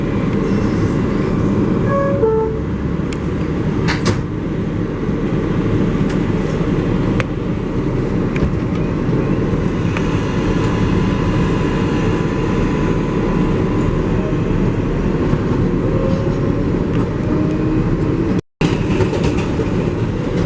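A New York subway 7 local train runs toward Flushing Main Street, heard from inside the car. There is a steady loud rumble with faint rail clicks and brief squeals throughout.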